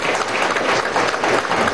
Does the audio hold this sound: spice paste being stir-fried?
no